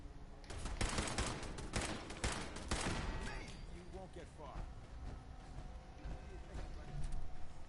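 Rapid bursts of pipe pistol gunfire aimed at turrets in Fallout 4 crack out in a quick cluster early on, then thin out, heard faintly at moderate distance.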